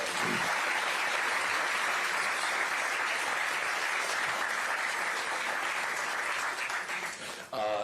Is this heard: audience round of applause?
yes